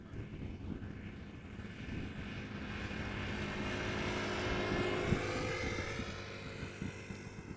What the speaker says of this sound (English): So this is Air Malta, flight 394, A320neo, arriving from Malta.